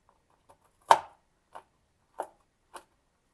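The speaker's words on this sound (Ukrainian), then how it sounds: "Нарізаю горіхи, ось так дрібненько." A knife taps sharply on a cutting board four or five times at an uneven pace, finely chopping about 50 grams of nuts for brownies in a quiet room.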